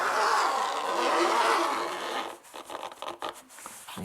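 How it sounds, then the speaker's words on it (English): A zipper on a sewn seat cushion cover drawn closed in one long, steady rasping pull up close, followed by short scratchy rustles of fabric handling. "I sewed the other half of the zipper on, and if I close it"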